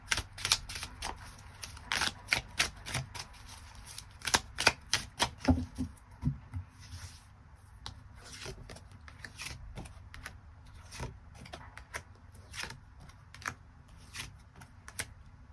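Tarot cards being drawn and shuffled give quick crisp flicks and soft slaps, a rapid irregular run of close card snaps that thins out into sparser taps, with no talking.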